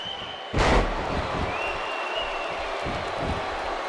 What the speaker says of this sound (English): this El Paso crowd is doing everything in their power to blow the roof off this place